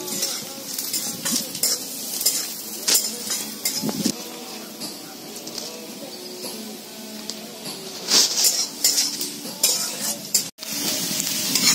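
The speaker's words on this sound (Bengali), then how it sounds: "পেঁয়াজটা আবার একটু নাড়াবো।" Onions frying in a pan get stirred, a close steady sizzle broken by scraping and clinking spoon strokes against the metal, with no talk over it.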